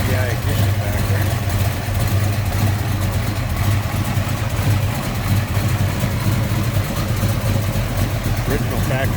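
A 1970 Chevrolet Monte Carlo V8 with headers, HEI ignition and a mild cam idles close by with a steady, lumpy rumble, while a person talks over it.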